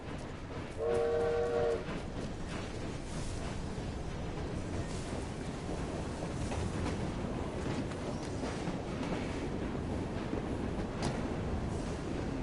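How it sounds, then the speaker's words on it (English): A passing train in the Victorian London streets of Assassin's Creed Syndicate, with a short horn blast near the start over a steady low rumble and rattle of rolling cars that continues throughout. "Another train. I wonder if we could jump on that and rob it."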